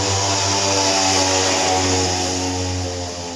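Standard-carburetor motorcycle engine revved after a carburetor adjustment, heard close and loud as a steady, buzzing drone with strong harmonics that holds for a few seconds before easing slightly, with no talking.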